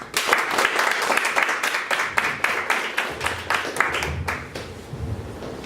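An audience at a live evening performance applauds to welcome a performer, with dense, fairly close clapping that swells and then thins, and a faint voice appears near the end.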